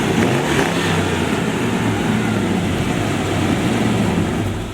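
A deep car engine, a Chevrolet Corvette V8 fitted in another car, revs and rumbles steadily, loud and close, holding a throaty drone with no talk.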